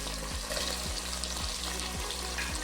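Potato, carrot, sweet pumpkin and drumstick pieces sizzle in a pan for sambar, a steady close frying hiss with a low rhythmic hum underneath.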